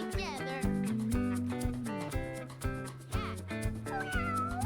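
A cat meows several times over bright, cheerful children's music, the drawn-out cries rising and falling in pitch and clearly audible above the tune.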